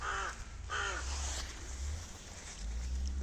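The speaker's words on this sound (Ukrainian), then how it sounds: "ворона чує і кричить" Two loud, harsh caws from an injured crow close by, a short pause between them, over a steady outdoor background hum.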